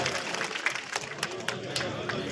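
A crowd at a farmers' rally gives a burst of sustained clapping to welcome the speaker, with dense applause filling the space and a voice partly audible beneath it.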